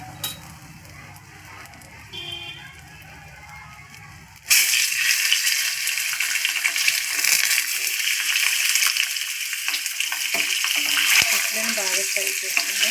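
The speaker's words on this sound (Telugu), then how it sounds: "బాగా ఫ్రై చేసుకుందాం." Egg masala curry base with salt, chili powder and turmeric is added to a hot pan. After quiet stirring, a loud, crackling sizzle erupts and holds steady, close and continuous.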